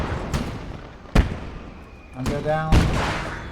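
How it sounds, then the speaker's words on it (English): Sharp booms of a 2-pounder anti-tank gun firing in a war video game, two or three distinct reports spaced about a second apart amid battle noise, with someone talking over them. "That's the 2-pounder again. That's a 2-pounder."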